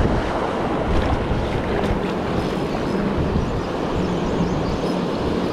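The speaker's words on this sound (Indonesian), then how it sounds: "Angin, angin." Strong wind buffets the microphone at sea during a fishing outing in big waves, a steady loud roar with surf noise beneath it and no talk.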